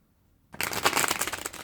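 Quick riffling of a tarot card deck after a brief silence, a dense crisp flutter of cards that runs steadily for about a second, close and fairly loud.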